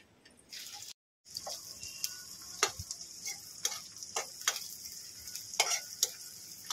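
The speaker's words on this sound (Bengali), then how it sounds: "পেঁয়াজটা একটু হালকা করে ভেজে নেব।" Onions and green chillies frying lightly in a pan, a soft sizzle broken by sharp spatula clicks and scrapes at irregular intervals, close and alone.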